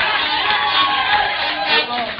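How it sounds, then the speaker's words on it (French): A church congregation erupts in shouting and joyful cheering during a deliverance service, a dense, loud wash of many voices crying out together without a break. "dites un bon amen avec des acclamations et des cris de joie"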